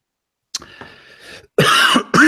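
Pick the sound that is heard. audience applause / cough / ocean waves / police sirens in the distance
cough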